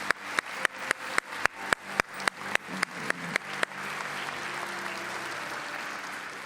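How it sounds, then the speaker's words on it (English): An audience at a student awards ceremony applauds its teachers. About a dozen sharp, evenly spaced claps lead into a broad wash of crowd applause that keeps going at a moderate distance. "Let's give our teachers a round of applause."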